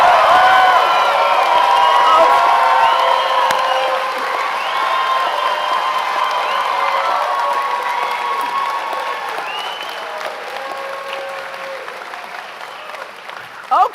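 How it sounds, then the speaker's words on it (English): A commencement crowd at a spring undergraduate graduation ceremony applauds and cheers the graduates, loud dense clapping with scattered whoops and shouts, gradually tapering off over the stretch. "giving our Stevens graduates the biggest, loudest, proudest round of applause anybody ever heard"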